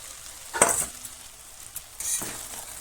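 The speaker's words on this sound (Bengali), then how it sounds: "মাছটা দিয়ে ভালো করে আমি মিশিয়ে নেব" Fried bhetki fish mixed into tomato masala in a pan, with two bursts of scraping and sizzling as the spatula moves, close, over a faint steady frying hiss.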